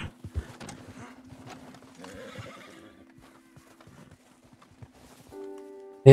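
A horse being left in an icy, snowy area during a fishing trip in Red Dead Redemption 2, with scattered soft hoof clops and brief neighing over a low steady hum, ending in a sudden loud burst.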